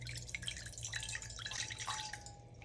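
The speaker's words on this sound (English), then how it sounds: "Start by adding some water to your pot." Water being added to a pot for churros dough, a light trickling stream with quick drips and a faint ringing tone, steady and quiet.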